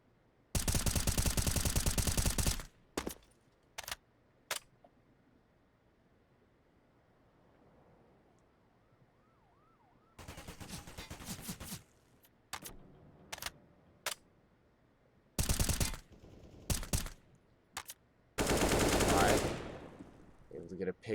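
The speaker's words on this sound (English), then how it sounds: "Tarp spans through that smoke with an AK" Automatic AK rifle fire from a Counter-Strike match, bursts of loud gunshots in several long and short volleys separated by quieter game ambience.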